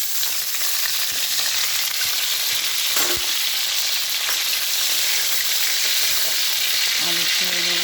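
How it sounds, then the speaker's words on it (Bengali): Potatoes fry in hot oil seasoned with bay leaf, dried red chilli and panch phoron, a loud, dense, continuous sizzle close by, with a few faint clinks of the pan and stirring. "তেল গরম হয়ে গেছে, আমি আস্তে আস্তে আলুগুলো ছেড়ে দেবো।"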